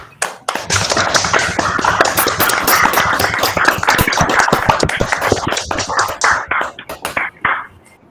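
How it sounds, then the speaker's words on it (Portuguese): An audience claps after an algebra presentation at an academic themed session, a burst of close, sharp handclaps that holds steady for several seconds, then thins out and fades as the clapping stops. "Vamos aplaudir."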